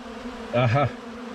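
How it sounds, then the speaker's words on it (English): A honey bee robbing a hive's honey supers buzzes briefly and close by, a short rising-and-falling hum over a steady low background drone. "these bees are frantic. They're moving quickly."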